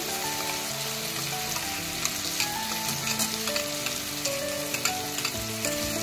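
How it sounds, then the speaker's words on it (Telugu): Carrots, beans and a vegetable paste frying in a pan for a mixed vegetable curry: a steady sizzle and bubbling crackle with scattered stirring taps and scrapes throughout. "క్యారెట్, ఈ బీన్స్ వేసి కొద్దిగా సాఫ్ట్గా అయ్యే వరకు వేయించుకోవాలి"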